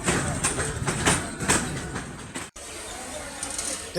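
Rumbling, clattering noise of a train pulling into Joydebpur railway station, with rhythmic mechanical clanks, steady and fairly loud, with a brief dropout midway before the rolling noise resumes.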